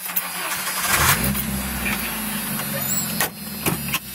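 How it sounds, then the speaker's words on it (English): A Jeep Wrangler's 2.5 L engine idles steadily and close by, a continuous mid-pitched mechanical drone with a few brief knocks near the end. "as you can hear, the engine runs good."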